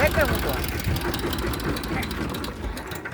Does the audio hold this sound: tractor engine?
yes